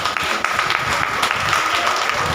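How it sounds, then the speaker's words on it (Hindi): An audience at a Bhagavat Katha religious discourse claps steadily and loudly throughout, a dense even wash of applause with no speech. "ताली बजाओ उनके लिए।"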